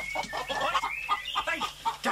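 Chickens cluck in a hen house, a busy run of close, repeated clucks and short squawks over a low background hum, with no talking.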